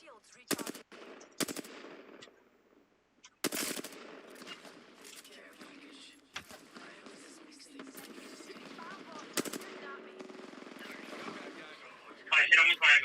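Video game gunfire in a shooter: sharp bursts of automatic fire and single shots, some loud and close and others quieter, with a player talking between them and a rising electronic whine at the end.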